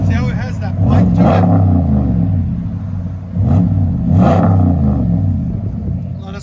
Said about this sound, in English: FLOWMASTER Super 10 with 2 resonator deletes and 5-inch tips.